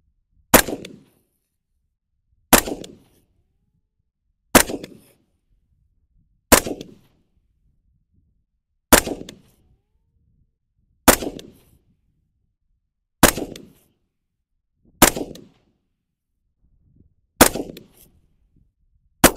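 Ten loud rifle shots from an AR fighting rifle fitted with a red dot sight, fired outdoors at a range at a slow steady pace about two seconds apart, each a sharp crack with a short decaying echo.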